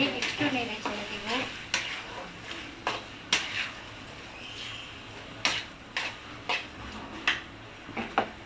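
Broiler chicken pieces are stirred into cooked-down spice masala in a pan. Sharp spatula knocks and scrapes repeat irregularly over a low, close sizzle, with no talking.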